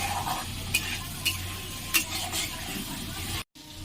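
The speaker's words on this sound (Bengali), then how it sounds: "এটি আমি ভালো করে মশলা দিয়ে এবার কষে নেব" Spices and ghugni, a street-fair style dried pea curry, are stirred and fried in a pan (kadai), giving a continuous sizzle with a few sharp scraping clicks of the spoon and a brief drop-out near the end.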